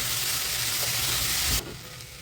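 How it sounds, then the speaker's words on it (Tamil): Ridge gourd and green chilies sauté in hot oil, a loud close steady sizzle and hiss that suddenly drops to a quieter simmer near the end. "இப்போ பீக்கங்காய் போட்டலாம் மிளகாய் போய் வதங்கட்டும்"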